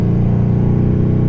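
A Mercedes-Benz CLS63 AMG engine holds a loud, deep, steady drone up close, a dense low rumble that stays level without revving.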